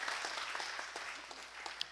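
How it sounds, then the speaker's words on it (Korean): A church congregation at Sunday worship gives welcoming applause, steady dense clapping from many hands filling the room, fairly loud and continuous throughout with no talking. "우리 환영의 박수 하겠습니다"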